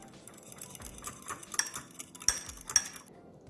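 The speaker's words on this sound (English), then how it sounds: "I'm going to mix both of these ingredients together now." A whisk or fork clinks repeatedly against a bowl while an egg is mixed into wet sugar donut ingredients, a quiet irregular rhythm of close scraping taps with no voices.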